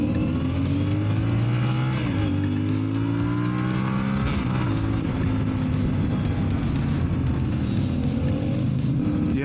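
A CFMOTO Ibex 450 motorcycle accelerating on the road, its engine note climbing through rising pitch sweeps with gear shifts, loud and continuous against wind rush.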